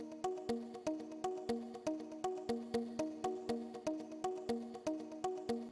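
A bright synth pluck from the Nexus plugin plays a repeating melodic pattern with steady rhythmic attacks, clear and alone, each note decaying quickly before the next.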